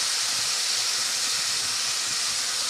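Chopped tomatoes sizzling in hot sesame oil for tomato thokku, a loud, continuous, even frying hiss close by with no break.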